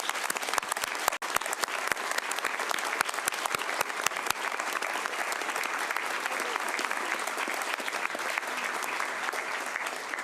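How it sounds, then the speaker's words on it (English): Sustained applause fills a Metro Council meeting room, dense, steady clapping from many hands at moderate loudness, holding evenly for about ten seconds without voices over it. "give them all a round of applause rather than me introducing them"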